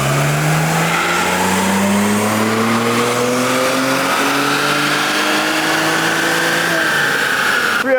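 A tuned car with a JB4 map 1 tune and E40 fuel runs on a dyno, its engine revving loudly in one steady climb through the gears, close and continuous with no talk.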